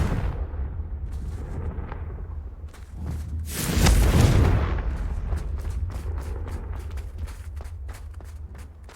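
Confringo fire blast spell in Hogwarts Legacy: a low rumbling background swells into a loud, broad whooshing burst at the midpoint, followed by a series of sharp crackling impacts and steps.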